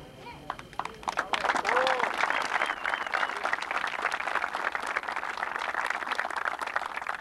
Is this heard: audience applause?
yes